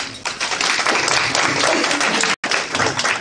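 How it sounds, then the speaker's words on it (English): A room at a school district board meeting breaks into applause, dense sustained clapping from many hands, loud and even with a brief cut near the end. "give him a rousing round of applause"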